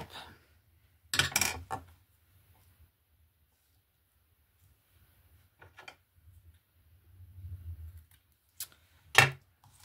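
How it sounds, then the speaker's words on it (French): Scissors handled during a craft project making a tea pouch, with a few sharp snips and clicks separated by quiet gaps, alongside soft rustling and handling noises close by. "Ah oui, ils sont là-bas les ciseaux."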